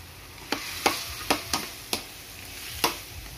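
Fried chicken stirred in a hot pan with cabbage and carrots: six sharp utensil scrapes and clacks at uneven intervals over a low, steady sizzle, close by with no voices.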